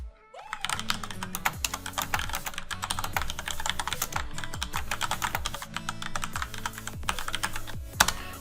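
Rapid, steady typing on a computer keyboard, with dense clattering keystrokes that run continuously and close up, with no voices.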